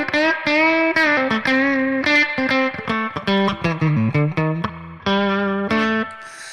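Clean electric guitar playing through a tc electronic Ampworx Combo Deluxe '65 preamp on both pickups with a push-button boost: bright, snappy chords and single notes ringing out with rhythmic strums and short pauses, up close and alone.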